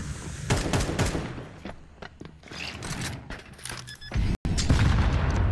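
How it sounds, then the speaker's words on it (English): A grenade blast and bursts of gunfire ring out during a Counter-Strike 2 match in a professional esports grand final, with dense, loud shots and mechanical clatter packed close together and a brief cut near the end. "Grenade"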